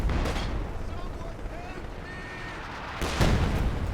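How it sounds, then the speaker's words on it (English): An SU-76 artillery barrage in Company of Heroes 2: a rumbling bed of distant blasts, with a heavier impact near the end, under a talking commentator. "Su-76 barrage coming in now."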